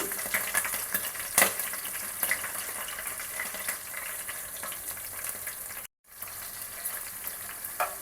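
Dried red chillies and green chillies fry in hot oil with a dense, close sizzle and stirring noises throughout, briefly cutting out near the end before resuming.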